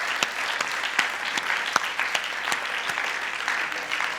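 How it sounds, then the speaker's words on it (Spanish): Congregation applause in praise at a church service, a steady roomful of clapping punctuated by a few louder, distinct claps near the front. "Dale un aplauso de alabanza a nuestro Padre."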